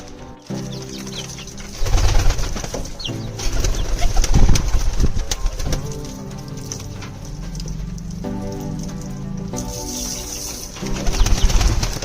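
A flock of pigeons coos nearby, with bursts of wing flapping and fluttering among steady background noise.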